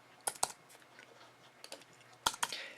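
Typing on a computer keyboard, a few crisp, close key clicks in two short bursts at the start and end with a handful of softer taps between, over a quiet room.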